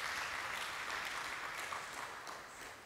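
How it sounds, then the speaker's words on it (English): An audience applauds performers at a formal event, steady dense clapping filling the whole stretch at moderate volume and tapering slightly toward the end. "Please give them another round of applause."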